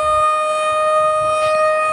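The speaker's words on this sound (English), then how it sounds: "And there goes the tornado siren." A tornado siren wails in a loud, sustained steady tone that holds throughout, close and unbroken, with no voices.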